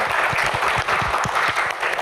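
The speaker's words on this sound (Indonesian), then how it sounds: "tepuk tangan buat Hotman Paris." Studio audience on a talk show claps steadily and densely for an arriving guest, a short burst of applause with no talk over it.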